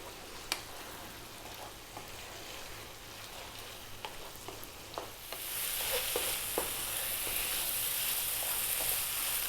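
Lamb bhuna curry fries uncovered in a pan on maximum heat, a steady sizzle with frequent scraping stirs and clicks of the spoon, the frying growing louder and hissier toward the end.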